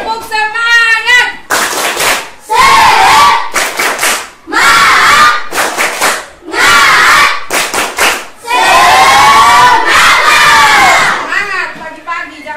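A classroom of students performs a spirit chant with rhythmic group clapping, loud bursts of claps and shouted voices in unison, alternating with brief pauses close by.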